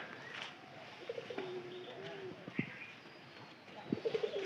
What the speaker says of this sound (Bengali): ও একলাই ডাকতেছে, মানে কবুতর যদি নাও দেখে তাও মনে করেন উড়া ধরা ডাক শুরু করে দেয়